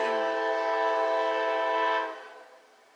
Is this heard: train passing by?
yes